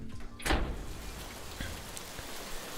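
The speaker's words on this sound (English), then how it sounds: "Love the sound of rain." Steady rain hiss fills the background, with a sharp knock or thump near the start and faint scattered drips throughout.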